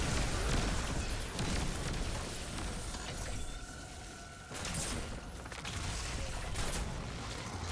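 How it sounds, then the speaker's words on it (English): Two grenades exploding in the shooter game Destiny 2 during a lost sector run, heard as a dense rattling, crackling burst of blasts and mechanical clatter at moderate loudness, with no talking. "I'm just going to toss both my nades."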